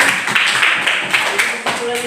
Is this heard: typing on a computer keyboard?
no